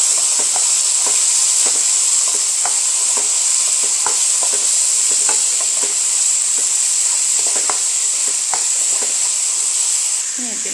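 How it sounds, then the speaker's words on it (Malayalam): Spatula stirring beef masala spices with garam masala in a hot frying pan: a loud, steady sizzle with a dense hiss and repeated scraping clicks close by throughout. "നന്നായി ഇളക്കാം."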